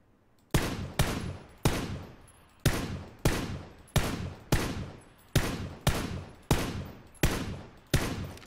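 PUBG gunfire rings out as about thirteen loud, sharp single shots at a steady, slightly uneven pace, each with a short decaying echo, close and alone with no talk.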